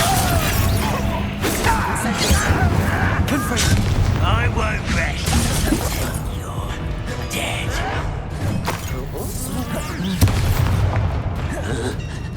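Spell explosions from Incendio and Confringo burst repeatedly in Hogwarts Legacy, heavy booms and crashing impacts piling over a busy game soundtrack while a voice keeps calling out spell names.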